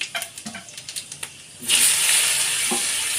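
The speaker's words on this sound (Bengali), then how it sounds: "কড়াই তেল দিলাম অল্প পরিমাণে। এবারে দেব 5 ফোড়ন, তারপরে দেব আমশি," Panch phoron spices and dried mango hitting hot oil in a wok-style kadai, a few light clicks and taps first, then a loud, steady sizzle and crackle that holds to the end.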